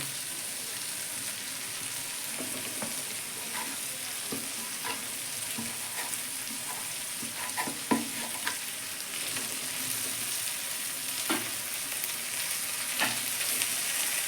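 Ground ginger, garlic, coriander, cumin and chili powder fry in hot oil in a kadai for a hilsa dish, giving a steady close sizzle with scattered scrapes and clicks of stirring throughout, no voices.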